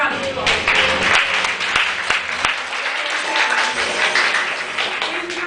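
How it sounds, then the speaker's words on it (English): Audience applause welcoming a guest onto the stage at an improv comedy show, dense continuous clapping from a crowd with a few sharp louder claps standing out and voices underneath. "Give her a round of applause."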